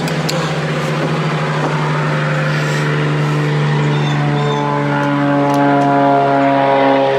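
A propeller airplane drones overhead near an RV renovation job outside, loud and steady, with a sustained engine tone that shifts in pitch as the craft passes, alone without talk.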